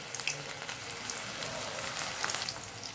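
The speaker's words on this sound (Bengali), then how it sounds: "তেলটা গরম হয়ে গেছে, আমি এর মধ্যে ফুলকপিগুলো দিয়ে দিচ্ছি।" Cauliflower pieces frying in hot white oil in a kadai, a steady close crackling sizzle with scattered sharp pops throughout.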